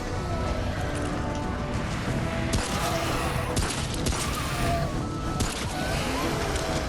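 Gunfire in the video game Remnant: From the Ashes, a dense stream of shots and impacts over a loud, busy background of game noise, with a few sharper bursts standing out and no clear talking.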